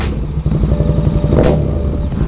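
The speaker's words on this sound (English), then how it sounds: "I'm gonna let my nephews come out here and rev the engine" Engine revving loud and close in a small town, a throaty motorcycle-like rumble with rising throttle bursts and clattering, no talk.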